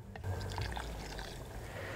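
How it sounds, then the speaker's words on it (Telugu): Water poured from half a glass into a cooking pot of pumpkin dappalam stew, a steady close trickling pour running nearly unbroken for about two seconds. "ఈ సగం గ్లాస్ నీళ్లు పోస్తే మనకు కరెక్ట్గా సరిపోతుంది"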